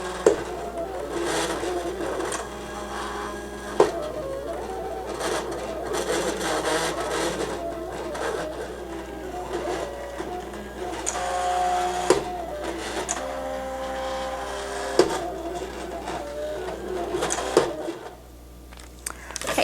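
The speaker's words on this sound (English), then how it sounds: "I can go ahead and send my design to the Silhouette." Silhouette CAMEO cutting machine slicing heat transfer vinyl, a busy mechanical whirring with stepping motor pulses and carriage movements that shift in pitch, steady and close for about twenty seconds.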